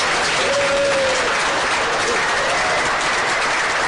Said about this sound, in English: the Australian crowd can hear them cheering in the side galleries